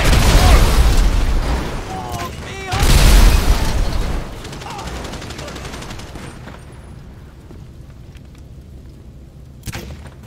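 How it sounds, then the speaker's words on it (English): Loud booming explosions from a grenade launcher in Grand Theft Auto V, two big blasts with rumbling gunfire and chaos, fading into quieter background noise with a late sharp hit. "Grenade launcher!"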